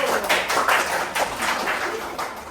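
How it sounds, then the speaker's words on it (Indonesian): Classroom applause for a student group, a burst of scattered clapping from a small crowd of students, fairly close and steady with no talking. "Kita beri tepuk tangan untuk kelompok 1"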